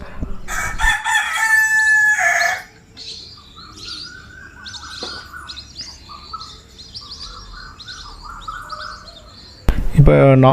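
A household rooster crows loudly close by in the morning, one long call at the start and another beginning at the very end, with small birds chirping faintly in between.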